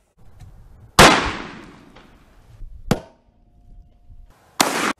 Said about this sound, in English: you're gonna blow up your gun like this